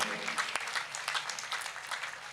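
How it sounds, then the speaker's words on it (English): Audience applause at a Ganga Aarti evening ceremony in Rishikesh during Holi, a broad sustained wash of clapping from a large crowd that carries evenly through, with one sharp nearer clap standing out early. "Let us give a big, big round of applause for you all, for each other being here."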